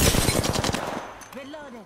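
A rapid burst of automatic video game gunfire rattles loud and close for about a second, then fades out, leaving a short electronic voice-like chirp behind.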